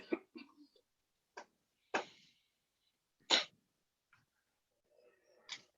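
Someone sneezes once, sharply, in a quiet meeting room during a planning and zoning commission session. A few faint coughs and small clicks are scattered around it.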